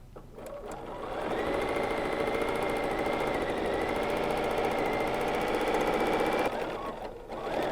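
A BERNINA sewing machine stitches rapidly while free-motion quilting wavy lines on a fabric placemat, a close, steady mechanical whir that starts up after a second, runs continuously, then stops near the end.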